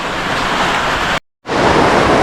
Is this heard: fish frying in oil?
no